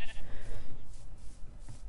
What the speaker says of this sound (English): We should actually kill some of these sheep so I can have my bed.